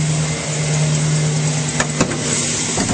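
A 2008 Chevrolet Silverado 1500 engine idles smoothly with its hood open, giving a steady even hum with a constant low tone, close and clear, broken only by a couple of faint clicks and no voices.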